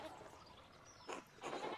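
Brief, faint bleats from sheep loose from a broken-fenced pen in the video game Pentiment, two short cries rising over a quiet ambient bed with no talk.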